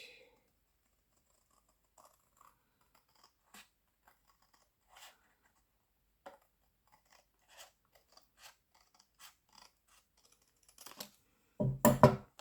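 Scissors make a long run of small, quiet snips as they cut the long side of a paper diamond, spaced irregularly, then pick up faster near the end with a louder rustle of paper.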